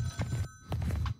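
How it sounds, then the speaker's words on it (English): A telephone rings downstairs in a horror video game, a steady trilling ring heard over low rumbling ambience and soft footsteps. "Is that the phone downstairs?"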